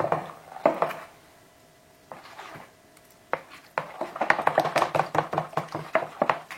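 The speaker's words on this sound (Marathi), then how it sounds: "हें बरें मिक्स करुया आमी" Rice flour and coconut batter being mixed by hand in a bowl, with soft taps and scrapes that start sparse, pause, then build into quicker, steady mixing strokes close by.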